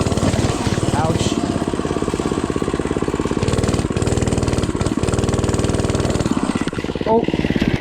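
A cheap mini bike's small engine runs loud and steady throughout, with revs rising and falling during a wheelie attempt and a voice talking over it.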